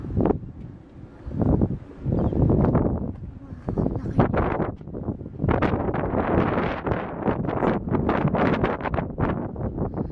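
Gusty wind buffets a microphone outdoors among large rock formations on a mountain, rising and falling in strong rushing bursts, with faint voices partly buried underneath.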